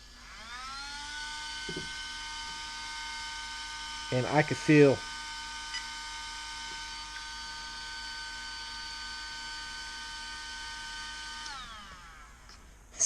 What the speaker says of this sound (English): when I plug this thing in, you'll understand why this thing moves more air.